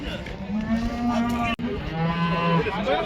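A single cow lows in a long, drawn-out moo at a busy livestock market in Kyzylorda, set against a murmur of crowd noise and a brief cut partway through.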